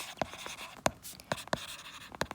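A pen writes on paper during an accounting lesson, making short, faint scratchy strokes in quick irregular bursts, close by and without talk over them.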